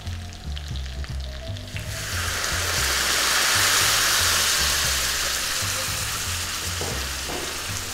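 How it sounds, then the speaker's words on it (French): Poultry trimmings browning in a hot pan, then deglazed with white wine: a quieter frying crackle gives way to a sudden loud, sustained hissing sizzle that holds steadily up close. "je vais déglacer au vin blanc"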